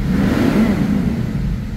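Mitsubishi 4M41 3.2-litre diesel engine with a low-power fault revving up, a close, loud, steady rumbling roar held for a couple of seconds.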